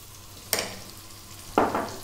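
One cup of onion dropped into two tablespoons of hot oil in a pan for soy sauce beef fried rice, two sharp bursts of sizzle a second apart over a quiet background, close and fairly loud.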